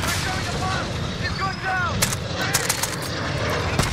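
Rifle fire in Call of Duty Modern Warfare cracks out in several sharp shots over a rumbling battlefield backdrop, with short whistling streaks and continuous loud ambience.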